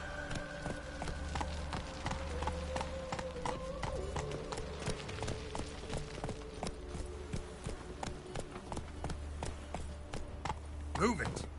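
Hooves clop in a fast, steady rhythm as a horse gallops in The Witcher 3, a continuous near pounding over a low game drone, with a brief whinny near the end.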